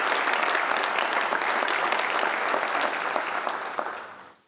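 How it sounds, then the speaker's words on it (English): A school district State of the Schools event audience applauding honored guests: dense, steady crowd clapping held at an even level, then fading out at the end. "Please give them a round of applause for all that they do for our"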